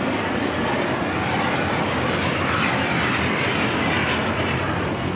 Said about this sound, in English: You have a United Dreamliner now rolling on 25 rights.